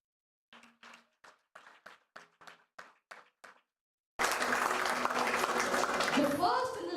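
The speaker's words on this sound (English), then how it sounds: "Ladies and gentlemen, please join us in a hearty round of applause for our school's trailblazers." Audience at a school investiture ceremony bursts into loud, sustained applause for the student council, following a spoken introduction over a few seconds of quiet.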